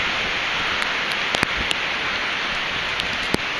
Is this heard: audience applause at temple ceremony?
no